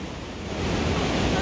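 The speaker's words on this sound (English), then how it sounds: "Here comes the wave! Splash!" A wave rolls in at La Jolla Children's Pool, a steady broad wash of surf that swells louder partway through and roars close to the microphone, with no talk over it.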